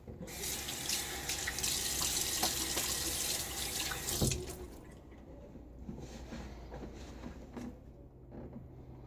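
A bathroom tap runs into a sink as the face is wet before a shave, a loud steady gush for about four seconds, then the flow drops to a quieter trickle and splashing.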